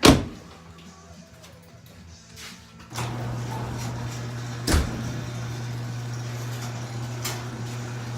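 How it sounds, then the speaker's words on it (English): A door is shut with a single sharp thump at the start, followed by a low steady hum and a few faint knocks nearby, with no speech. "Shut the door."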